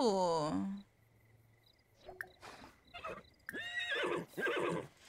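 In The Sims video game, a horse lets out a loud, descending whinny, followed by softer hoof clip-clops and small game sounds, while someone talks over the later part.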